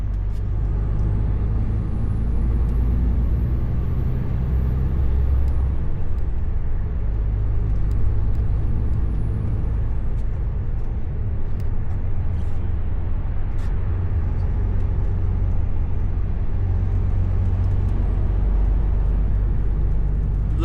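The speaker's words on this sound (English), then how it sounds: "A little bit of traffic that we've got now" Road traffic heard from inside an HGV cab: a steady low engine and road rumble runs throughout, with passing vehicles and the occasional hiss of an air brake, and nobody speaks.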